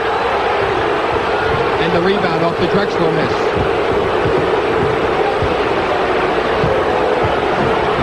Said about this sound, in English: A very vociferous crowd here in Portland.